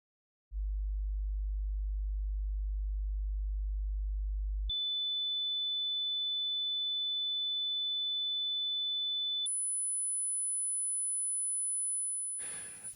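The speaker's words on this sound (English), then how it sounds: "These three sine tones, all of which have the same technical level, which seems the loudest to you?" Three steady pure sine tones played one after another at equal technical level: a low 50 Hz hum, then a 3.5 kHz whistle, then a very high 10 kHz tone, each about four seconds long with no voice.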